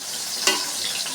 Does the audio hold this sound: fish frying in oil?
yes